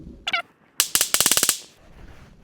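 A quick run of about eight close, sharp .22 Long Rifle shots fired into a tree, coming in a steady rhythm after a couple of earlier pops.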